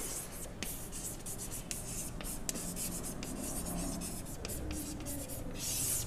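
Pen or marker writing by hand during a biotechnology lecture, a steady scratchy rubbing with short strokes and pauses, close and fairly quiet, with no talking over it.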